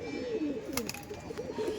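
A golden-eyed pigeon with black-speckled eyes coos close by in a few soft, rolling, throaty phrases, with a brief light clatter in the middle.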